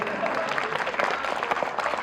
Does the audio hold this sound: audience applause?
yes